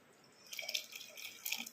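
Water trickles and splashes as it is poured into a cooking pot of homemade turmeric and ginger stew, a soft, brief, close pour with dripping bursts and no talk.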